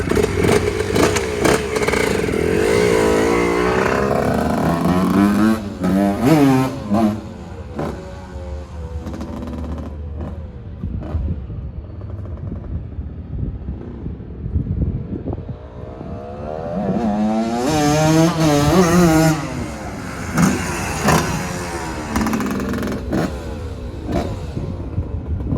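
A Cagiva WMX dirt bike engine on a test ride, revving hard in rising and falling bursts through the gears, loud and close with rattly clatter between surges.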